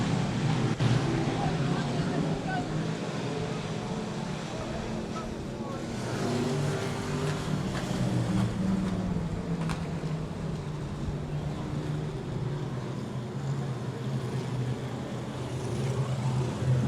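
Race cars at South Texas Speedway roar down the straightaway out of turn four, a steady loud engine drone with swelling passes lasting throughout.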